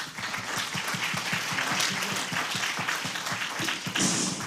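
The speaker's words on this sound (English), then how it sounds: "So round of applause for the startups, please." Applause for startups at a foodtech accelerator demo day, a sustained crowd of hands clapping steadily for several seconds, dense and fairly close, with a brief swell near the end.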